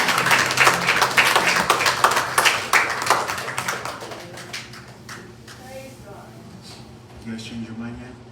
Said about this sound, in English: Can we give a clap offering to Jesus today?